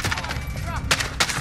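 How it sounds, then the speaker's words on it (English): Gunfire in the video game Call of Duty Warzone, with a few sharp close shots and bursts over a rumbling background, one distinct crack near the middle and another near the end. "Stop shooting at me!"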